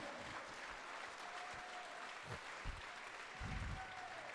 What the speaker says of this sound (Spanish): Alguien déle una ofrenda de palmas a Cristo Jesús